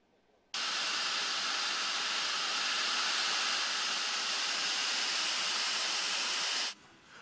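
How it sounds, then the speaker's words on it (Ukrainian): A late-1940s steam locomotive at Cherkasy station releases a loud, steady hiss of steam that starts abruptly, holds evenly for about six seconds, then cuts off, heard alone without voices. "Справжній паротяг запустили в Черкасах."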